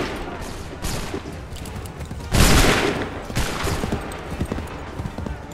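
Musket volleys crack in Assassin's Creed III, with a few scattered shots followed by a loud massed volley that rolls and fades, then more ragged fire, all heavy and close.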